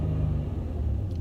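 Manual-transmission car engine rumbling steadily as the clutch is slowly released, a close, continuous low drone with no talking.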